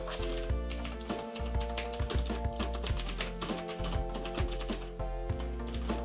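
Typing on a Genesis Thor 380 mechanical keyboard into a text editor, a steady run of close, crisp key clacks over a constant low hum, with faint background sound throughout.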